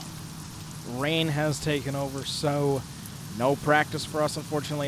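Rain falling in a racing video game at Daytona International Speedway, a soft steady hiss beneath someone talking close up.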